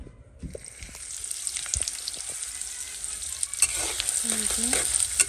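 Vegetables sizzle and fry in hot oil in a pan, a steady close crackle with intermittent stirring scrapes, no talking.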